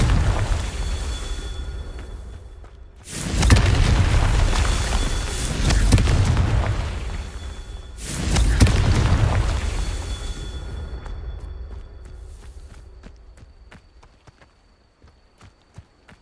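Confringo and Incendio spells go off in Hogwarts Legacy. Two loud, booming blasts land a few seconds apart, each trailing into a long rumbling decay, and the scene fades to quiet with faint ticks.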